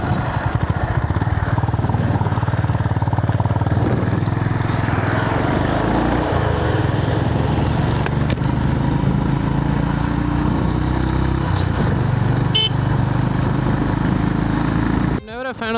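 A Honda CB350 RS long-stroke 350cc motorcycle engine idles close by with a steady, loping low rumble, a faint voice occasionally over it, ending in a brief clunk.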